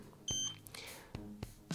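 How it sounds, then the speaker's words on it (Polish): A KSGER T12 soldering station gives a short electronic beep to signal it has reached temperature, followed by a few brief clicks and tones, faint and alone. "Sygnał dźwiękowy poinformował nas o tym, że temperatura została osiągnięta."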